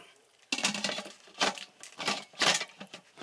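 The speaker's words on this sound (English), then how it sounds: "I want to make sure that I have my lid on sealing, which I do, and then I'm going to put the lid on." A metal lid is set onto an Instant Pot electric pressure cooker, with a few close, loud clanks and scraping rattles as it is fitted and turned into place.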